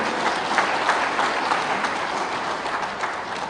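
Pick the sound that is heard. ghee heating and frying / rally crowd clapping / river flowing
rally crowd clapping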